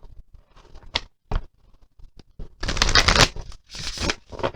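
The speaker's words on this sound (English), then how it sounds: "so I'm going to be shuffling for us" A tarot card deck is shuffled by hand at close range: a few soft, separate riffles and taps at first, then longer, louder bursts of brisk shuffling toward the end.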